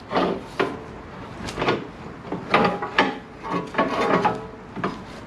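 A bent tool pries at a front strut part on a Jeep Cherokee, producing close, irregular bursts of scraping and knocking in uneven clusters separated by short pauses.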